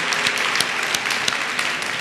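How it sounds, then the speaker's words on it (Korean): A church congregation gives warm, sustained applause during a service. Dense, steady clapping fills the whole stretch at an even, fairly loud level. "우리 한번 이분들에게 뜨거운 박수로 다시 한번 축복하겠습니다."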